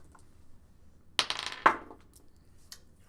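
Dice rolled for a tabletop role-playing perception check clatter across a table in a short rattling burst with a sharper final knock, followed by a faint later click, close and otherwise quiet.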